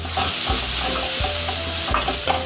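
Ginger, garlic and chilli paste frying lightly in a pan for egg chilli, with a loud close sizzle and a spoon or spatula scraping and stirring in repeated strokes about every half second.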